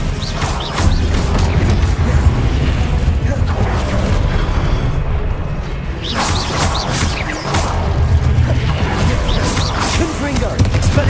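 Confringo blasting curse explosions in Hogwarts Legacy, dense booming crashes and whooshes layered into a loud continuous battle din, with shouted spell calls.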